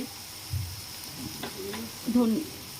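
Chicken kosha frying in a pan with chilli, cumin and turmeric powders, a soft steady sizzle with a couple of louder stirring scrapes, heard close up with a voice speaking over it.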